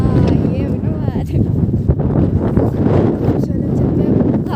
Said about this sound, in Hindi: हवा चल रही है भयंकर